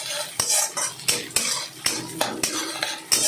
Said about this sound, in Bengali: ডালটা ভাজা হচ্ছে।